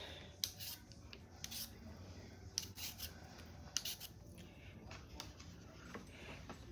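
Russet potatoes being peeled, a quiet series of short scraping strokes at an irregular rhythm, close and soft with no talk.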